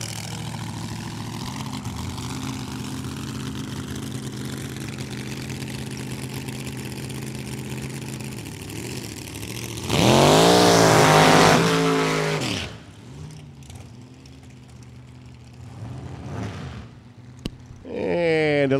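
At a drag strip, an NHRA drag race car idles and burbles loudly while staging, then launches with a brief, very loud, rising roar that cuts off and fades, leaving quieter engine sounds and a short final burst.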